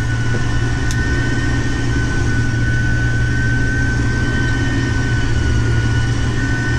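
A farm harvest machine drives through mud, giving a loud, continuous low engine drone with a steady mechanical whine and no talk.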